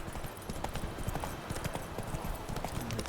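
Horse hooves clip-clop at a gallop in The Witcher 3 video game, a quick steady rhythm of hoofbeats over outdoor ambience, fairly quiet, with no talk.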